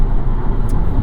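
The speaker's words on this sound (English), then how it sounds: "this is how quickly I can accelerate on electricity only" Steady low rumble and road roar inside a 2023 Volvo S60 Recharge plug-in hybrid accelerating on electric power alone, continuous and fairly loud with no engine note rising above the hum.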